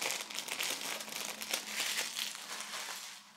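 Close, steady crinkling of cellophane wrapping being stripped from a PS5 game case, a continuous bright rustle with small crackles and no voices.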